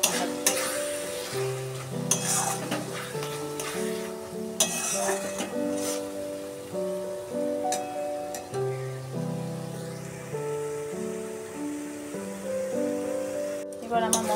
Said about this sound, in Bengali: আমার মশলাটা মোটামুটি কষানো হয়ে গেছে, হালকা হালকা তেল ছাড়তে আরম্ভ করেছে